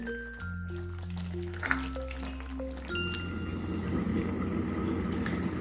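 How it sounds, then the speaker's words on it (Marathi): A traditional Bhogi mixed vegetable curry with jujubes is stirred in a pan, giving a soft frying crackle and hiss that grows fuller halfway through, under a gentle melodic tune. "आता या स्टेजला बोरो टाकते आणि मिक्स करून घेते"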